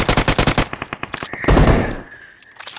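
Automatic rifle fire in the PUBG Mobile video game: a loud, rapid burst of closely spaced shots, followed by a heavier blast that decays, then a few more shots at the end.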